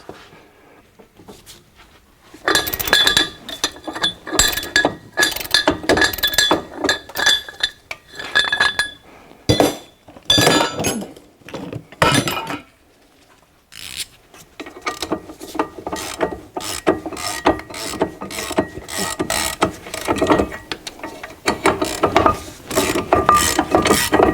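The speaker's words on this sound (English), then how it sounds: "So we're gonna undo these two bolts so we can remove our caliper bracket." A ratchet wrench loosens the bolts of a front brake caliper bracket on a Mercedes Sprinter van, producing long runs of rapid, loud clicking bursts that start, pause briefly and resume, close up, with no speech.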